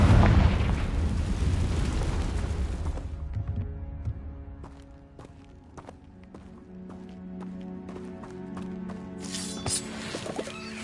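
In Hogwarts Legacy, a Confringo fire spell explodes with a loud, rumbling burst that decays over several seconds. Quieter clicks and a soft tonal drone follow.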